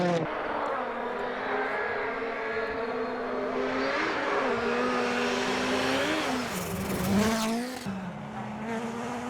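A small, high-pitched motor of a custom Traxxas Rally VXL RC rally car driving in snow whines steadily, its pitch rising and falling as it revs, with brief squealing bursts near the end.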